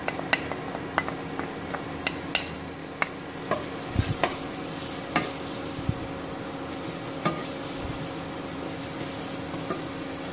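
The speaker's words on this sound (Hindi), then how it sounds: "उसके बाद ये लहसुन डालेंगे," Garlic sizzling and frying in a pan with oil, a steady close sizzle broken by scattered clinks and scraping of a spoon stirring against the pan.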